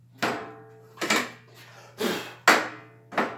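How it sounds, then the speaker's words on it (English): An impact driver sets screws into pocket holes cut with a Kreg pocket hole jig, producing a series of five sharp, close rattling bursts roughly half a second to a second apart over a steady low hum. "I'm using an impact driver."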